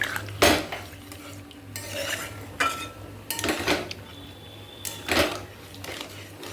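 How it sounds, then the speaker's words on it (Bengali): Pan of egg and potato curry in a home kitchen, with a few clanks and scrapes of utensils against the pot and a brief splash of added water, fairly quiet and without talk. "এবার দিয়ে দেবো জল।"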